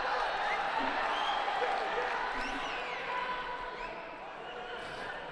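A judo tournament crowd in Tashkent applauds and cheers, a sustained wash of clapping and murmuring voices from a large arena audience, moderately distant and easing slightly toward the end.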